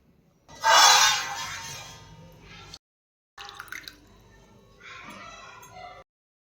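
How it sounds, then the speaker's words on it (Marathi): Water splashes and drips against a metal idli steamer vessel up close, a loud burst first, then a short gap and intermittent clattering rinses. "हे जे पात्र आहे ते आधी स्वच्छ असं धुवून घेते"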